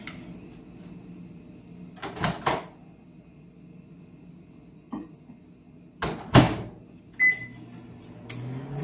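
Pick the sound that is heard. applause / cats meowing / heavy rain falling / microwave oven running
microwave oven running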